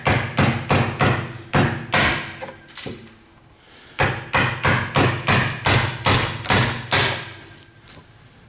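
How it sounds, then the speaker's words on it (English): A mallet drives a chisel into wood held in a vise, with loud close thuds in quick rhythmic bursts, a short pause, then another run of repeated strikes. "chisel and the mallet"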